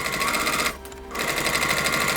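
A sewing machine stitches through vinyl and cork with a size 110 needle, running loud and steady and close by, then pausing briefly before starting again.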